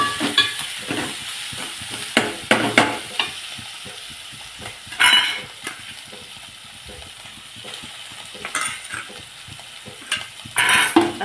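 Coriander and soaked lentil mixture are pan-roasted until crisp, with repeated clattering stirs and scrapes against the pan over a continuous sizzle, loud and close, with bursts of quicker stirring. No one speaks.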